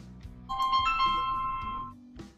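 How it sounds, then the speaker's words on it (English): A phone rings with a bright electronic ringtone, a sustained warbling tone with harmonics lasting about a second and a half, close and fairly loud over a low background hum. "Why is my phone ringing like that?"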